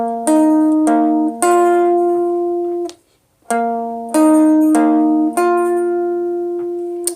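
Electric guitar playing a riff slowly, in two matching phrases of clean, ringing plucked notes with a brief pause between them, loud and alone.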